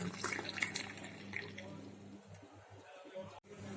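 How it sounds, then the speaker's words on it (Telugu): Hot milk poured into a cup for dalgona coffee, a brief liquid splash and trickle under a woman's speech, settling into quiet handling noise. "నెక్స్ట్ వేడి వేడి పాలను పోసుకోవాలి కప్లో"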